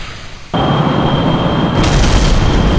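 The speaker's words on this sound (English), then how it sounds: "They exploded." Rocket blowing up in Kerbal Space Program, a sudden loud boom that cuts in and rolls on as a sustained roaring, crackling blast with a steady tone ringing through it, no voices.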